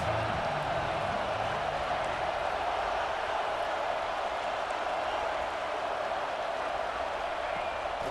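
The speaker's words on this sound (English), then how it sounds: "This crowd trying to make life miserable for this offense." Steady stadium crowd roar from the College Football 26 video game, a dense continuous wash of cheering and noise holding at an even level throughout, with no distinct voices standing out.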